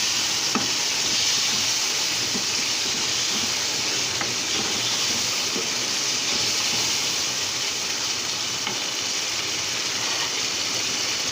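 Chicken karahi sizzles loudly in hot oil as green chillies go in, a steady dense frying hiss with faint crackles running throughout without talk.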